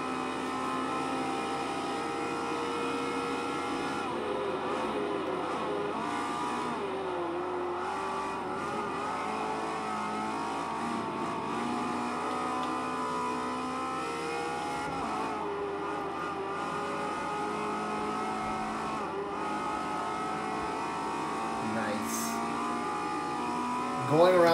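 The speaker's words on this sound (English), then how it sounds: "Going around the Circuit de Barcelona-Catalunya in this car, man, it's just a whole lot of fun." A high-revving Ferrari 360 Modena engine in the racing game Forza 4 drones steadily at Circuit de Barcelona-Catalunya, pitch shifting up and down as it accelerates and shifts gears, with a constant loud whine.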